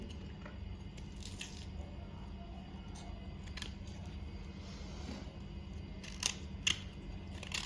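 Raw, unripe mangoes being cut for pickle, giving quiet, intermittent crisp cutting clicks and snips over a low background, with a few louder cuts toward the end.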